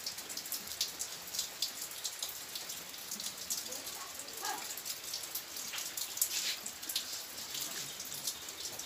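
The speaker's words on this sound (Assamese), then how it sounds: "বাৰু বৰষুণ দি আছে দেখিছেই" Steady rain falling outdoors, a continuous soft hiss with scattered drips, fairly faint and without talk.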